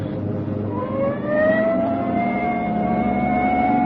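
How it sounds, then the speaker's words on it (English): A wailing siren rises in pitch and holds, loud and close, over a rumbling vehicle engine. "Hit the siren."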